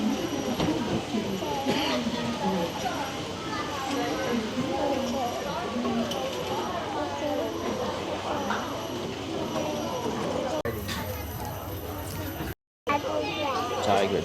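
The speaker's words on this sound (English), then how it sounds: "Tiger Tram." Tiger Tram ride at Singapore Zoo, a continuous rumble and rattle of the moving tram beneath chattering passengers and nearby voices, with a brief dropout near the end.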